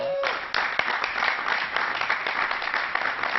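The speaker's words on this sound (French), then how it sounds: "on peut applaudir nos deux pasteurs" Applause from a church audience for two pastors, a dense patter of claps starting after a brief opening tone and continuing steadily, moderately loud and fairly close.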